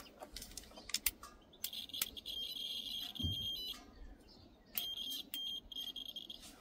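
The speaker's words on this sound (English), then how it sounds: "Let's get a multimeter on that, see if we've got continuity." A multimeter on a continuity setting, probing a fuse on an old generator, gives thin high beeps in two stretches of about a second each, amid small clicks and handling noise, close and fairly quiet.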